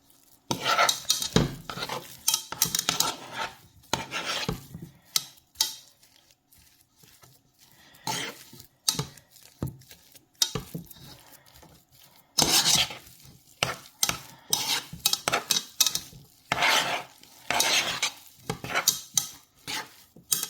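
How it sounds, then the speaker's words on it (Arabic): Boiled potatoes are mashed together with butter and garlic in a pot, making repeated scraping, clacking utensil strokes against metal in irregular bursts with quiet pauses, close and fairly loud with no talking. "ههرسهم مع بعض."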